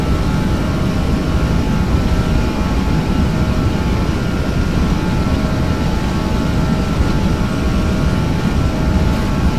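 Airliner engines spooling at takeoff power in a VATSIM flight simulator departing Zurich, a loud, steady broadband roar with a constant low rumble that holds without break throughout.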